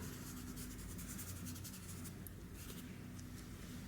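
Soft pastel stick rubbed and blended with a finger on paper, a quiet, continuous dry scratching and rubbing throughout.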